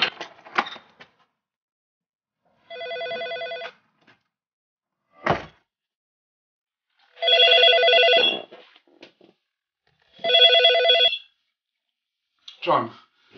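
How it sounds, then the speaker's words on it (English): Telephone ringing in a documentary scene, three spaced old-style bell rings between brief knocks and handling sounds, loud and close against otherwise silent surroundings. "Professor Nick Humphrey gets a phone call from a colleague"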